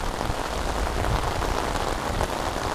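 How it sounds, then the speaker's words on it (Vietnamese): Heavy rain pours down steadily during a storm, a dense, loud, unbroken wash of drops falling close by with no voices. "Đấy, mưa to quá, dê cũng không ăn được cỏ nữa các bác."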